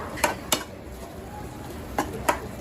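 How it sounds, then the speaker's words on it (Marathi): A spoon scrapes and taps against a pot of prawn masala with kokum before a lid goes on, giving four sharp metallic clinks in two close pairs, near and clear over quiet kitchen background. "एकदा परती मारून घेऊ त्याच्यावरती आणि याला झाकण ठेवून घेऊ"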